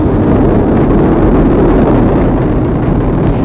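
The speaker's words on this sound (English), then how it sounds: "All 4 RS-25 engines on the core stage and 2 solid rocket boosters now propelling the vehicle at 128" NASA's Artemis 1 rocket climbs away on four RS-25 core-stage engines and two solid rocket boosters, heard from a distance as a loud, unbroken low roar that saturates the space with constant rumbling.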